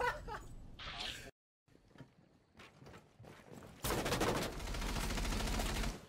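Rapid gunfire bursts in the Breach and Charge video game, loud and dense toward the end after a brief dropout, with scattered shots and mechanical clatter earlier.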